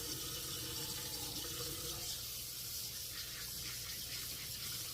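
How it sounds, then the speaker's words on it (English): Tap water running steadily into a sink during handwashing, a continuous close hiss and splash with slight shifts as hands move through the stream, no talking. "let me wash my hands one more time"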